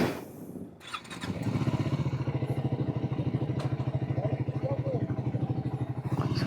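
A superbike in Hyderabad starts up and rides off, its engine settling into a steady, pulsing idle-to-rev rumble close by.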